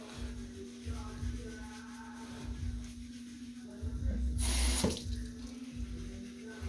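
A tap runs water into a sink as a glove is wetted for face cleansing, a steady soft splashing close by with a brief louder gush near the end and a constant low hum, with faint voices.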